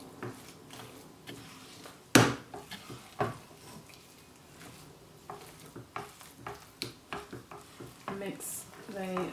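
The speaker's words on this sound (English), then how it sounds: "Mix the mashed potatoes and the garlic parsley butter together." Mashed potatoes being stirred together with garlic parsley butter in a pan over very low heat, soft scraping and stirring strokes with occasional sharper utensil knocks against the pan, close by and fairly quiet.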